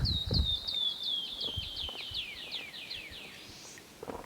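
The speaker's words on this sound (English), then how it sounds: "We got a bird that keeps singing in here." A bird sings a long run of rapid, descending whistled notes in Santa Elena Canyon, clear and fairly close, over faint rustling and a low rumble.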